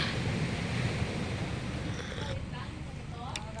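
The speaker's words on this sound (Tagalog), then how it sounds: "narinig ba yung hampas ng alon?" Ocean waves wash and rumble continuously at a beach resort, a broad roar of surf with wind buffeting the microphone.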